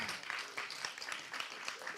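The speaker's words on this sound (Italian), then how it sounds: "I hope you can hear the applause," Sustained audience applause at a forum, many hands clapping in a steady, moderately distant wash with no pauses.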